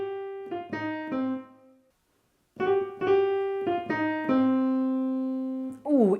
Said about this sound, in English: A slide is when we slide our finger from a black note to a